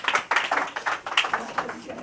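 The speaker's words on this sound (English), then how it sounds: "Give a big round of applause" Scattered hand clapping from a small audience at a pain relief demonstration, sparse, uneven claps at moderate distance, fairly quiet.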